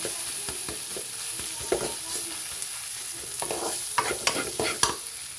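Mutton tossed with turmeric, cumin and coriander powder in a pan, a soft sizzle under repeated scraping strokes of a spatula, with sharper clicks near the end.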